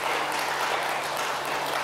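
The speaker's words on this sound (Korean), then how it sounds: "박수 치세요" A church congregation claps continuously, a dense, even patter of applause with no voices standing out, lasting a couple of seconds.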